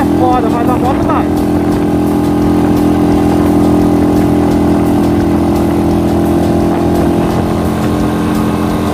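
A motorcycle engine labors up a steep, curving hill in second gear, a loud, steady droning roar close by that holds strong throughout, with a rider's voice briefly heard over it at the start.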